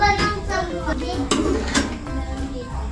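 A pot of ingredients being stirred with a utensil for chapati and masala cooking, giving repeated metallic scrapes and clinks close by while someone talks over them.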